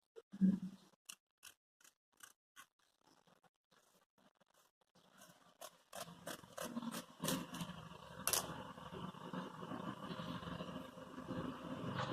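Scissors cut fabric for a child's lehenga, starting with sparse, quiet, separate snips and moving into a denser stretch of crisp cutting and rustling cloth, faint and close.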